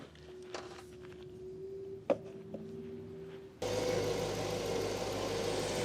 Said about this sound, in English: The engine's running.